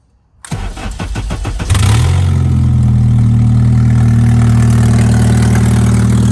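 A K24 engine in a BMW E21 cranks with a rapid chugging, then catches and roars into a loud, steady idle that rumbles on close by, its first start.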